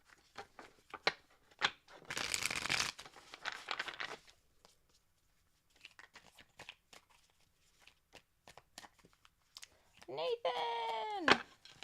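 Tarot cards are shuffled in quick bursts of rapid riffling and flicking, with scattered taps and pauses between, and a brief voice sound near the end.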